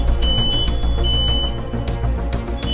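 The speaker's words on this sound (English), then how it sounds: "I did set off the fire alarm one time. I was making bacon." Smoke alarm set off by bacon cooking, a thin high electronic tone chirping intermittently over loud indoor music and room noise.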